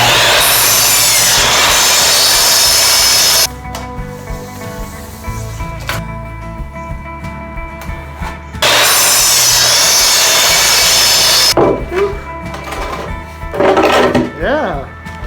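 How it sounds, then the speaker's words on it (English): A jigsaw buzzes loudly through wooden boards for a king size platform bed frame in two long, steady cutting runs, separated by quieter workshop handling, knocks and rubbing of wood. "we'll do these Lincoln log type of cuts with a jigsaw"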